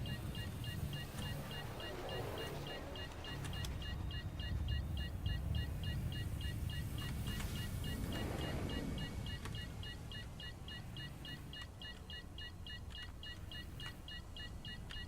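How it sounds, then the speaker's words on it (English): Incessant regular electronic beeping in the video game Star Citizen, repeating steadily over a low rumbling engine hum and ambient noise, with faint bursts of sound in between. "If it wasn't for the bleep, bleep, bleep, bleep, that incessant beeping noise"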